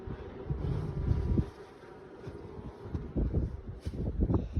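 Honeybees buzz steadily around an old Ukrainian-frame hive, a dense humming swarm close by with bursts of louder buzzing and some wind noise.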